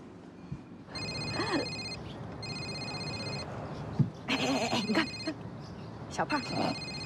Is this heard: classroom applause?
no